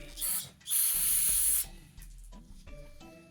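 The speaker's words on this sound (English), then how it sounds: "I'm gonna spray a little bit of carb cleaner down here." Carb cleaner sprayed into the carburetor of a 2005 Honda CRF150F dirt bike: two loud close hissing aerosol bursts, a short one then a longer sustained blast, followed by faint clicks and handling noises.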